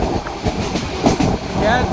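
A moving passenger train between Chalala and Junagadh in heavy rain, its carriage rumbling and clattering continuously with rhythmic wheel clacks and a brief high squeal, heard from inside, with a voice faintly mixed in.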